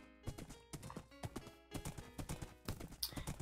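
Horse hooves clip-clop in Minecraft's Wynncraft server, a brisk irregular run of hollow clops close by, with a faint whinny-like tone and no talking.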